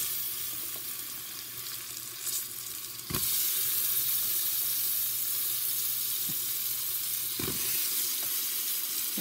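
Brinjal pieces tumble into a hot pan and set off a loud, steady sizzle of frying, with a couple of sharp stirring scrapes breaking through the continuous hiss.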